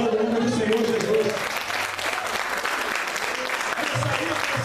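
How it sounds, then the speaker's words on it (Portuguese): Church congregation clapping together during a worship service, a dense wash of applause that starts as a preacher's voice fades and carries on steadily to the end. "Glória a Deus e aplauda o nome do Senhor Jesus."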